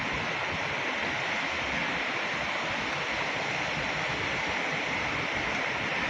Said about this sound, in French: La fameuse, la très belle, magnifique cascade de la Combe.